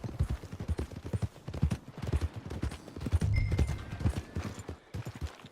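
Horse hooves clip-clop in steady rhythm across a Red Dead Redemption 2 game scene, close and fairly loud, with brief snorting and other game sounds mixed in.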